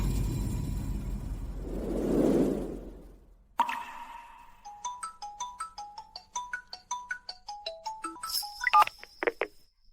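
A chiming phone ringtone plays a quick, melodic run of bright tones after a soft whoosh, getting louder toward the end; no one speaks.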